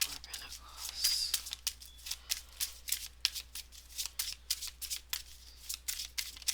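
Tarot cards being shuffled and drawn, a quick run of crisp riffling snaps and flicks close by, steady and rhythmic over a faint low hum.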